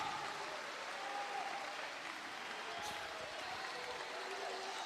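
A church congregation applauds through a Pentecostal sermon, steady dense clapping at moderate level with faint voices mixed in throughout.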